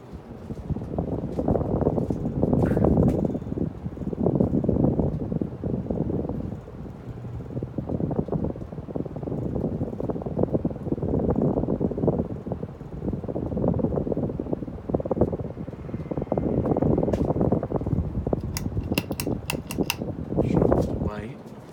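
A Casablanca Next Generation Aria 52-inch ceiling fan with a spot light kit gives a steady airy whoosh close to the microphone. The wind rush pulses slightly and goes on throughout, with faint talk beneath it.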